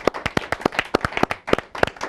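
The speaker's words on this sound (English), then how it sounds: "big round of applause anyways to the debaters who did an excellent" Studio audience applauding debaters on a televised debate show, a short burst of quick, uneven claps from a small group, close and moderately loud, lasting about two seconds.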